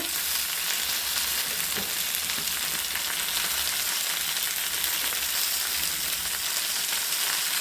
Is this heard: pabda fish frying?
yes